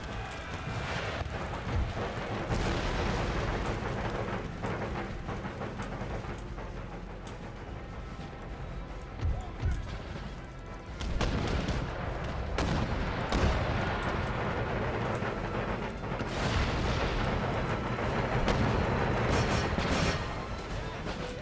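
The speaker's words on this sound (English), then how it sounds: "This is crazy, just how effective mortars are." Mortar artillery fire in the video game Empire: Total War, a dense, continuous rumble of booming explosions and battle noise that runs through the whole stretch with a person talking over it.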